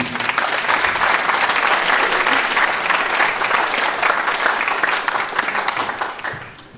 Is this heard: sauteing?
no